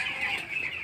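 Thirteen-day-old broiler chicks in a poultry shed give a continuous, close chorus of high-pitched peeping and clucking that lasts the whole short moment, with no talk over it.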